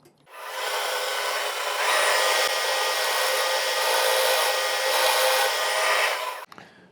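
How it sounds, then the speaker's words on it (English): A worn 1/8 inch end mill grinds into the carburetor of a 2007 Polaris Sportsman 450, a continuous high whirring cut lasting about six seconds, starting and stopping abruptly, close and loud with no talking. "That is a 1/8 inch end mill, but it's not in the greatest shape."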